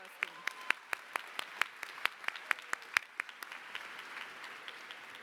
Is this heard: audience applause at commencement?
yes